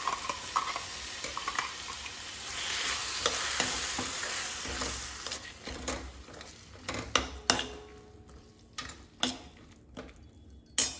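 Onion paste thinned with a little water fries in a pan with roasted fenugreek for methi matar masala, sizzling softly while a spoon scrapes and clacks against the pan in irregular strokes. Sharper knocks come near the end.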